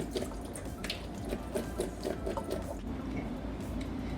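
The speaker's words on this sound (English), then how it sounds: "thoroughly wash your raspberries in cold water" Raspberries being washed in cold water for raspberry jelly, with steady trickling and splashing water and soft wet squishing throughout, fairly quiet and close with no talking.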